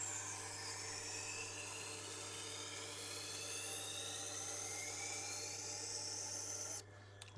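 A knife is ground steadily on a Tormek sharpener's Blackstone 320 grit wheel, a continuous rasping hiss over a low motor hum that runs unbroken before cutting off near the end.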